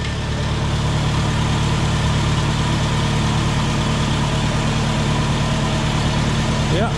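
A Farmall Super C tractor engine idles steadily and close by, a continuous low rumble that holds even throughout with no change in speed.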